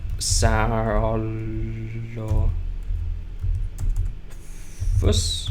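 Keys clatter on a computer keyboard as a dinosaur name is typed into Minecraft, a short run of quick clicks between stretches of someone talking.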